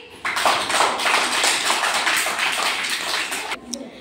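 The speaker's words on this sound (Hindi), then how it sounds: "जोरदार ताली बजाइए।" A group of schoolchildren in a classroom burst into loud, sustained clapping that starts abruptly, holds steady for a few seconds, then stops sharply.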